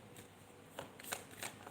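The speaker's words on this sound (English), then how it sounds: "let's shuffle for Beautiful Tarot first of all" Tarot cards being shuffled by hand, a few quick riffling bursts close up, quiet and alone.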